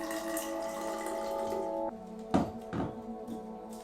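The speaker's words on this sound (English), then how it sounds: "Fill your bottle with water up to 3/4." Tap water runs into a bottle in a steady, pitched stream whose tone rises as the bottle fills. It stops abruptly, and a few clunks and splashes follow.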